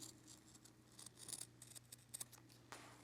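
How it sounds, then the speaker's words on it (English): Scissors snip through fabric while cutting out a fusible-backed applique beak piece, a quiet run of small crisp cuts and rustles over a low steady hum. "So the beak is all solid line. I'm going to cut that out."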